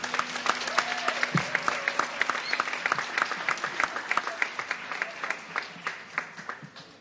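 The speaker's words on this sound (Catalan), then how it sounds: "Un aplaudiment per Luma." Audience applause at an end-of-year music school concert, steady dense clapping from a crowd with sharp individual claps standing out, sustained for several seconds and tapering slightly near the end.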